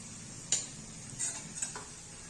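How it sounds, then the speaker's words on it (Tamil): Chicken with coriander powder being stirred and sautéed in a pan for Pallipalayam chicken, giving a soft steady sizzle with a few light scraping strokes of the spoon, close and quiet, with no talking. "இப்போ இதையும் நல்லா வதக்கி கொடுத்துக்கலாம்"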